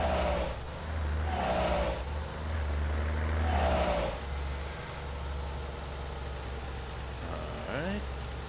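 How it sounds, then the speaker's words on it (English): A tractor engine in Farming Simulator 19 drones steadily with brief pitch sweeps like gear changes, under a low hum and a faint whine. "you may be hearing what sounds like shifting from my tractor"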